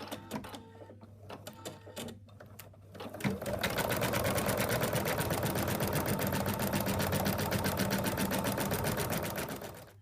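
An embroidery sewing machine stitches the outline of a frog applique, starting after some clicks and handling noise, then running in a loud, rapid, steady stitching rhythm close by for several seconds.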